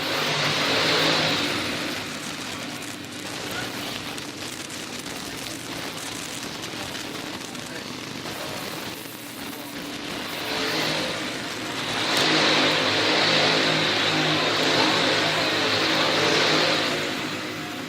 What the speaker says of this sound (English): Here they come, off of turn 4, back across the line